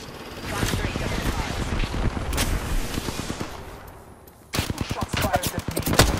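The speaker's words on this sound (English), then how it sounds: "shots fired at me." Rapid automatic gunfire from the Apex Legends video game rattles in dense bursts, briefly easing before a second loud volley of sharp shots near the end.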